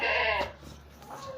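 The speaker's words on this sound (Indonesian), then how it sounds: "Ini memang kambing jantan kalau dilepas biasanya suka kayak gini Mas." A male goat on a goat farm lets out a loud, strained bleat at close range, followed by a fainter second call; no talk over it.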